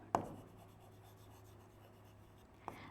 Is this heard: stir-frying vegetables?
no